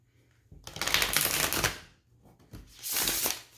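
Two bursts of cards being riffled and shuffled close by, a crisp rapid flutter each time, separated by a short quiet pause.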